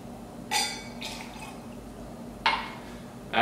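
Gin poured into a cocktail mix for a Tom Collins, heard as two short bright splashing bursts of liquid with a gap between them, close and fairly quiet, with no talking.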